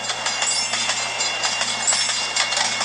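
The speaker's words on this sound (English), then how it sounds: "These freaking trains, man, they just go all over the place." Trains rumble along the tracks at a railroad crossing in a mobile video game, a steady rolling wash with faint repeated clacks throughout and no talking.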